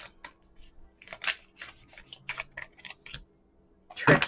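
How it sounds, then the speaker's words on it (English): Tarot cards rustle and snap in quick irregular bursts, close and fairly loud, ending in a louder riffle of shuffling. "I'll see how I shuffle these cards."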